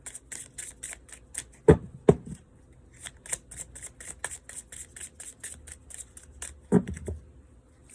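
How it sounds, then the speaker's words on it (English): Tarot cards shuffled by hand in a quiet room, with a few sharp riffling bursts among soft repeated sliding and tapping of the deck, close and moderately loud. "One more shuffle."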